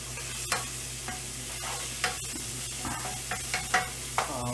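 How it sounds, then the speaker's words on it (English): Quiet, steady sizzling of vegetables in a frying pan, with a few clinks and stirring scrapes punctuating the hiss. "there we go, sizzling a little better now"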